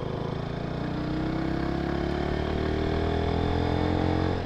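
A motorcycle warms up with its exhaust rumbling in a deep, steady idle close by, the engine note rising slightly in pitch and loudness over a few seconds.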